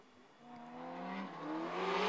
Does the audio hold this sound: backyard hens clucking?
no